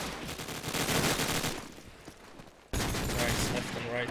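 Rapid SMG fire in a Call of Duty 4 Promod playoff match, dense crackling bursts that fade briefly and then snap back loud and steady, with a commentator's voice over the shooting.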